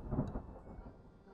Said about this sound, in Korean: 천둥이 쳤네